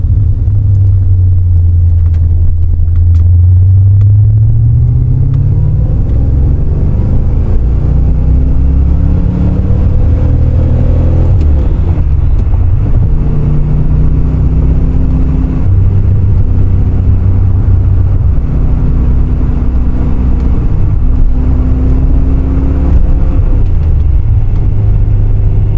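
A C4 Crossfire Corvette accelerates on an on-ramp, its engine rumbling loud and close as revs climb through several gear changes, each rise followed by a dip and renewed pull.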